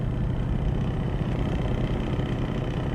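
Steady, loud low rumble of a Scania V8 truck engine idling through its exhaust in Euro Truck Simulator 2, a continuous deep drone with a faint rhythmic throb and no voices.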